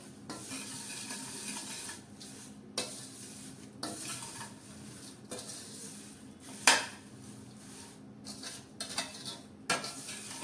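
Sesame seeds being stirred through papad poha chivda in a pan, with soft scraping and clinks of a spoon against metal, an occasional sharper knock, close and fairly quiet, with no talking.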